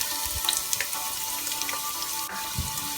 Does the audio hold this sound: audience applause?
no